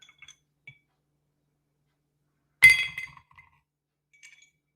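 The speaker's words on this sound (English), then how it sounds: "So I might just add some ice into my glass here." Ice cubes land in a drinking glass with one sharp, bright clink and a short rattle settling after it, close and clear in an otherwise quiet room.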